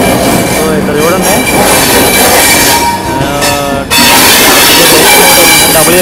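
The 12635 Vaigai Superfast Express, an Indian passenger train hauled by a WAP4 locomotive, runs loud and close toward Tambaram, with steady rolling rumble and wheel squeals that drop off briefly before the full roar resumes.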